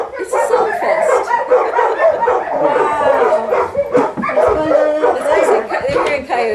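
Dogs howling, yipping and whimpering together in response to coyotes, a loud continuous chorus of overlapping voices close by, with some human-like chuckling sounds mixed in.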